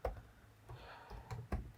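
A search term is typed on a computer keyboard, giving four or five crisp, close key taps spaced irregularly over a quiet background.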